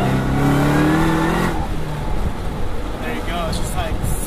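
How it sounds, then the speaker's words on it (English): A 725hp Ford Mustang GT500 accelerates hard, its supercharger whine rising over a loud, close exhaust roar that climbs in pitch for about a second and a half, then settles into a steady rumble with a voice talking over it. "the supercharger whine just accentuates it perfectly"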